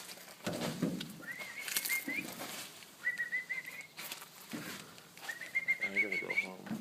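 A baby bird gives repeated high, thin calling chirps in short bursts, close by, while people talk quietly over rustling handling noise.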